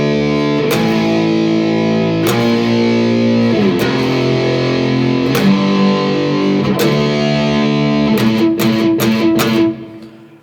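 A distorted electric guitar plays the chorus riff of a song from Arcane Season 2, chugging power chords struck in a steady repeating rhythm, loud and close, ending in quick strums before cutting off.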